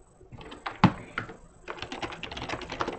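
Rapid typing on a computer keyboard, a quick irregular patter of close key clicks with one sharper tap near the start, continuing steadily without speech.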